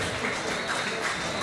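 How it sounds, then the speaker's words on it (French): Applause at a Paris event, a dense wash of many hands clapping at a distance, fairly soft and even throughout, with a faint murmur underneath and no clear speech. "Mesdames, messieurs, des applaudissements pour monsieur Philippe Forbin."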